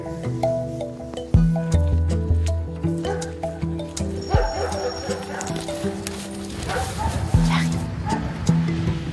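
A tracking dog on a search barks and whimpers in short, repeated bursts, close and fairly loud, while a person speaks to it between the barks.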